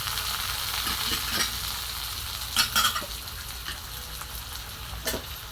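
Tomato frying with chillies in a pan, a steady close sizzle with a spoon stirring through it and a few louder scraping clatters, no talking.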